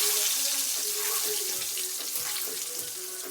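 Eggs and potatoes fry in a pan for an egg curry, a loud, continuous close sizzling hiss that holds steady throughout with no talking.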